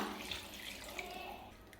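Water poured into a pan of frying mutton masala for mutton varuval, a steady splashing pour that runs throughout at moderate loudness.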